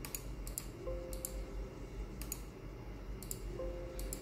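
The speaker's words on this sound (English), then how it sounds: "right click and delete each one" A computer mouse clicks sharply and quietly in pairs and small clusters, spaced about a second apart, against a soft background hiss while entries are deleted one by one on a desktop PC.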